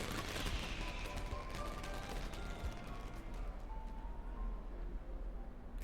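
A dense, continuous crackle of firecrackers popping in the Love & Deepspace game, rapid irregular bursts layered over a noisy festive din, loud and close throughout with no speech.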